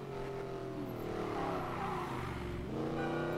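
A Koenigsegg Agera hypercar of 1500 horsepower in Need for Speed Payback roars loudly and steadily as its engine climbs through the revs, the pitch rising and then dropping at a gear change before building again.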